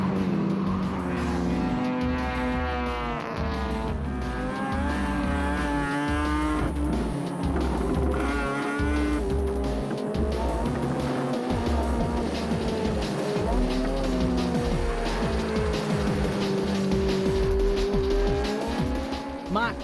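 Race cars including a Honda CRX racing, with engines revving and shifting in rising, falling pitch sweeps and tires squealing, loud and continuous under a commentator's voice.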